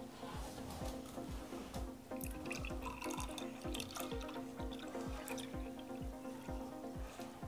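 Strained sharbat drips steadily into a container, making a rapid patter of drops over a continuous faint trickle. The sound is close and quiet.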